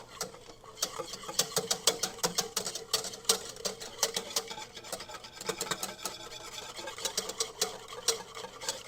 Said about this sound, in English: So I'm going to turn my stove to low, and I'm going to continue to whisk